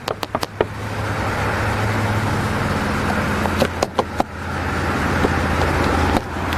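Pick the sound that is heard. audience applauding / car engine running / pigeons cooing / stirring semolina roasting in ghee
car engine running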